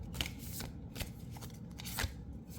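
Tarot cards shuffled by hand for a love reading, quiet riffling bursts repeating about once a second, close and soft, with no talk.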